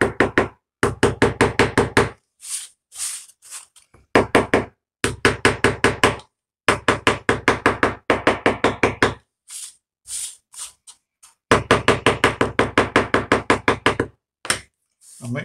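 Repeated knocks from the end of a screwdriver tapping a wooden part of a 32 mm scale side tipper wagon, heard as close, rapid bursts of sharp taps with short pauses between the groups.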